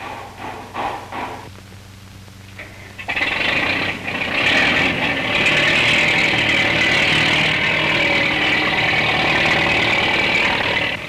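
Old agricultural tractor engine at a training school, starting with a few uneven chugs and then settling into a loud, steady running drone close by.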